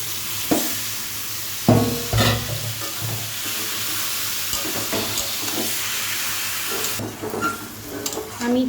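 Lemon-marinated chicken is dropped into hot spiced oil for a curry and sets off a loud, continuous sizzle. Sharp clatters of stirring come through at intervals, and no one talks over it.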